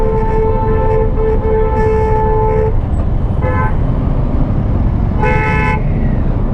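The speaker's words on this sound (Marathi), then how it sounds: "पुण्याला हे सिटीचं ट्रॅफिक आहे" Weekday-morning city traffic in Pune: several car and vehicle horns honk in short bursts and longer toots, some overlapping, over a constant loud rumble of engines and road noise.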